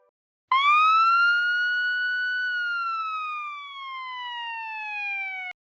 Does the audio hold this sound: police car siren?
yes